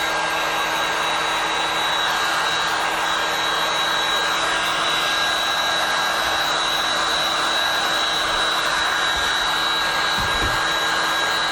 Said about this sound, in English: I'm going to take this heat gun